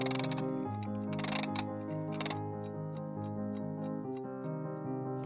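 Handmade fantasy clock ticking steadily and fairly quietly, with a rhythmic mechanical tick-tock and some brighter metallic clicks and chimes layered over a faint hum.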